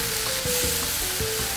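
Marinated beef sizzles as it hits a hot pan for a BBQ beef with noodles dish, a steady close hiss with a few soft clinks and stirring knocks.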